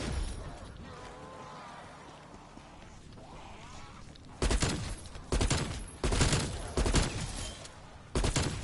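Commando rifle gunfire in Call of Duty Cold War Zombies on the Mauer der Toten map comes in several sharp, loud bursts separated by short pauses, following a quieter stretch with a voice talking.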